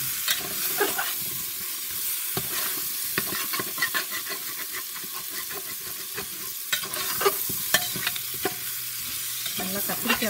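Large pieces of cut eggplant are sautéed in a pan for a tamarind curry. A steady sizzle runs under repeated scraping and clacking strokes as the pieces are stirred and tossed.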